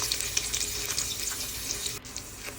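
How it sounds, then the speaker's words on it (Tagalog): Garlic and onion sautéing in hot oil, a steady close sizzle with bright crackle and light stirring, no voices. "nagpainit na ako ng mantika. Kasi igigisa ko yung bawang and sibuyas"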